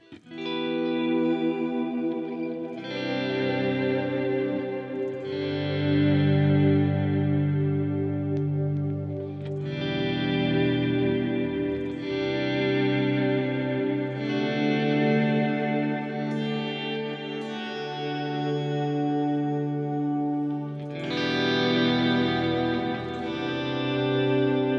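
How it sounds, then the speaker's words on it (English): An electric guitar through a Headrush unit on a Vox-style chime patch plays sustained chords and notes soaked in reverb and delay, each strum ringing out and trailing into echoes, moderately loud with no voices. "We'll make the reverb a little bit more. We'll make the delay a little bit more."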